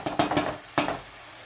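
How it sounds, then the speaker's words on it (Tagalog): A utensil scraping and clinking against a pan while fried rice is stirred, four quick metallic strokes in the first second then a fading hiss, close and fairly quiet. "Haluin lang yan."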